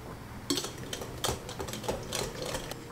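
Banana bread batter gets whisked in a bowl, with quiet, irregular clinks and scrapes of the whisk against the sides, a few sharper taps standing out over a soft background.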